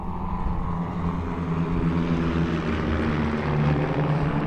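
A vintage Stearman biplane and a smaller agile trainer fly overhead at a Veterans Day ceremony on Mount Soledad, a steady loud propeller-engine drone with low harmonic rumble continuing throughout.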